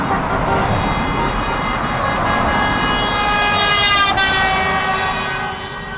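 Loud, sustained car horns blare together from a Georgian wedding convoy on the road, a continuous layered honking with traffic noise that tails off near the end.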